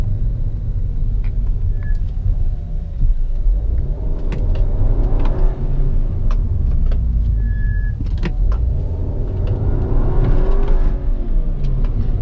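Volkswagen Jetta TSI with 211 hp driving, a continuous low engine rumble and road noise from inside the car, rising in surges as it accelerates, with brief faint chirps.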